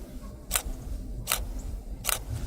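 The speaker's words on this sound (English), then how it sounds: "press the shutter release and it'll take my pictures for me with a 2-second" A camera fires a bracketed exposure series on a 2-second self-timer while shooting an HDR panorama, three sharp shutter clicks about three-quarters of a second apart, close and crisp over faint background hiss.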